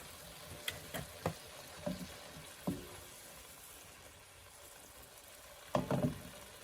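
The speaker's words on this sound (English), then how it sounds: "add in a little bit of extra virgin olive oil again just to brown this fish up" Salmon frying in extra virgin olive oil in a pan, a quiet soft sizzle with a few brief clicks and scrapes of handling, near and faint.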